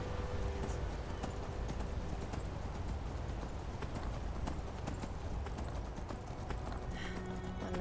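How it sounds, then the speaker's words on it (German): Donkey hooves clip-clop steadily and evenly through the whole stretch while the player rides in the Enderal video game, the hoofbeats loud and continuous over a dense game soundscape, with no voices present. "Weil ich auf einen Esel hier reite oder was?"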